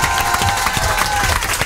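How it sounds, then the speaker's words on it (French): In a radio studio, the audience claps and cheers for Léa, a short, dense burst of applause with crowd noise mixed in. "est-ce qu'on peut l'applaudir?"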